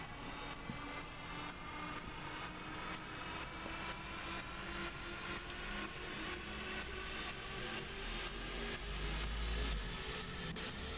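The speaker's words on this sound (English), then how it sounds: "A riser. I've used a sample here." A sampled riser effect shaped with high and low cut filtering, reverb and compression, a faint continuous noisy wash that slowly swells and brightens over about eleven seconds.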